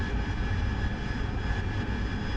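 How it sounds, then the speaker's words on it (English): Steady broadband roar of an airliner's engines in reverse thrust during a landing rollout in a flight simulator game, loud and continuous with a deep low rumble throughout. "just using a bit of reverse thrust"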